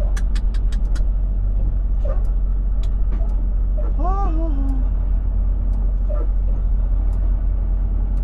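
Road traffic in Montreal heard from inside a truck hauling a trailer, with a constant low engine rumble, scattered clicks and knocks, and a brief whining tonal sound midway.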